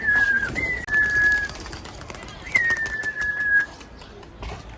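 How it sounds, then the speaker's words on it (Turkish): Two long, clear whistled tones ringing out outdoors as a flock of about 45-50 pigeons is flown, with faint bird sounds around them. No distinct cooing or wingbeats stand out. "Şimdi abi sen uçan kuşlarını bir görelim biz."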